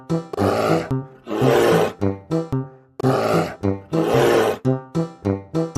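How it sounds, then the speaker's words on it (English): Bear growling in repeated deep, rough roars and shorter grunting bursts, close and loud, in two similar rising phrases over a few seconds with no speech. "Correct! It's a bear!"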